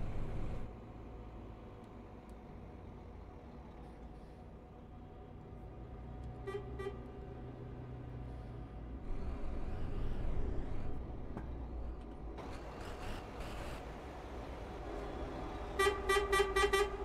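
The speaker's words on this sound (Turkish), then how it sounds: "Kornam çok güzel değil mi ya?" A Neoplan Starliner 2 coach's horn in Euro Truck Simulator 2 toots in short bursts over the steady low drone of the bus engine on a road drive, with a few brief honks midway and a louder double blast near the end.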